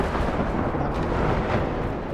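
A vehicle exploding in a shooter video game, a low continuous rumbling roar that stays steady and moderately loud without distinct separate blasts.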